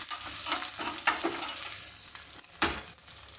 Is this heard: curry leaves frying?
yes